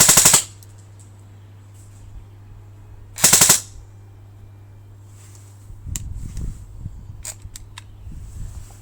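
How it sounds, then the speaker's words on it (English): VFC Umarex MP7A1 Gen 2 airsoft electric gun firing two short full-auto bursts, sharp and close, followed by quieter mechanical clicks and handling noise. "we get some full auto, switch to single"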